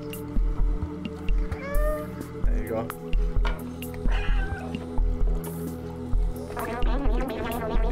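A cat meows in the video game Stray, short game meows over rhythmic low thumps and background game sounds, while a person talks over the gameplay.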